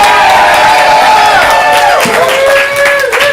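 Audience at a ComedySportz improv comedy show in Portland cheering, whooping and clapping loudly as a continuous crowd roar, with whistles and shouts rising over the din.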